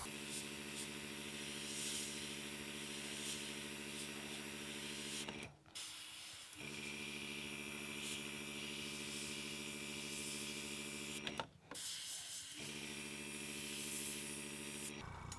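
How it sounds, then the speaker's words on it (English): A hobby airbrush sprays paint onto a model car body, a steady close hiss mixed with a humming compressor tone. The sound runs continuously, breaks off briefly twice and then resumes. "Make sure we get paint coming out of our airbrush and just work slowly on this top edge here and the side."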